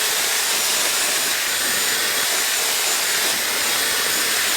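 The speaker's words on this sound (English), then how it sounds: "I'm gonna go ahead and use the blow dryer attachment" A Dyson Airwrap with its blow dryer attachment drying long hair gives a steady, loud, broadband whoosh of blowing air that holds constant throughout, with no talking.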